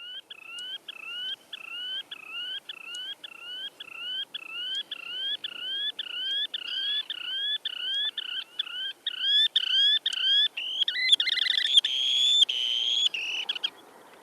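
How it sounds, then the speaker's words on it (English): A shorebird repeats a short frequency-modulated call, a steady series of rising two-tone notes in even rhythm that grows louder, denser and faster toward the end, over a quiet background. "And then the short frequency modulated call,"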